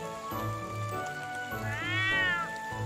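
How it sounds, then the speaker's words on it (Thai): A cat in the farming video game Everdream Valley gives a drawn-out, wavering meow over looping background game music, with no talking. "มีน้องแมวด้วย"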